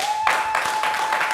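Studio audience applause on a French talk show, a dense patter of clapping running steadily throughout alongside a steady tone.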